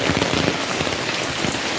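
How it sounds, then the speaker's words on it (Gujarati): A heavy monsoon downpour pours down in a dense, steady roar, with close raindrops drumming on surfaces and no pauses. "ફૂલ વરસાદ ચાલુ થઈ ગયો છે"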